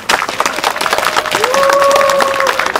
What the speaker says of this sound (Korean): 나오실 때 힘차게 박수로 환영해 주십시오